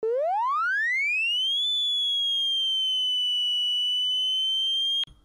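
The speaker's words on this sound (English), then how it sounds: "since this is a slow attack, you're gonna hear the sound that pitches up slowly" A synthesizer tone with a slow attack glides upward in pitch over about two seconds, then holds a steady bright note before cutting off abruptly.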